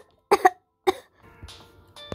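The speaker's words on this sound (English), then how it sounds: "I never saw you coughing like that." Two or three sharp, close coughs in quick succession in a Toca Boca video game, followed by a softer rasping throat sound and a short wheezy cough at the end.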